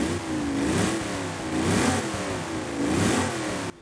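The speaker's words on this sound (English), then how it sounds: "take a listen to this sport exhaust." Sport exhaust on a Holden HDT Commodore VK Group A in Forza Horizon 5, revved three times in steady succession, each loud rising-and-falling rev close up with no talk.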